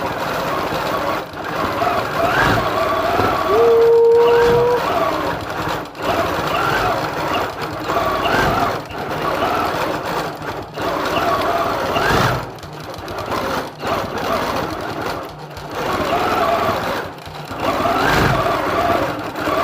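A Rebel stitch-regulated sewing machine quilting patchwork fabric for stockings whirs loudly and continuously nearby, its speed rising and falling with brief pauses between runs of stitching.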